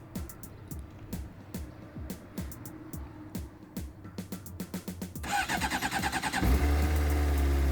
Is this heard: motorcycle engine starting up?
yes